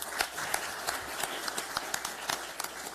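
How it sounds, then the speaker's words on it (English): An audience at a Boys and Men of Color committee hearing in San Diego applauds a panel: steady, fairly quiet clapping, a rapid patter of many hands with a few sharper claps, nobody speaking over it. "Could you give panel one more round of applause?"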